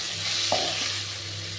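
Bottle gourd fries in a pan and is stirred, a constant sizzle over a low hum with one sharp scrape of the spatula near the start.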